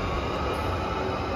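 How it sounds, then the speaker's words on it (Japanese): JR Shikoku 8600 series limited express electric train at Marugame Station, a steady loud broadband rumble and hiss of the train running close by, with no talk. "丸亀駅13時19分から20分発着、特急潮風石鎚松山行き8600系特急電車です"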